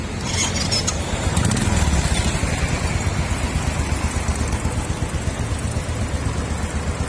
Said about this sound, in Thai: ฟังเสียงเครื่องยนต์กันนะครับ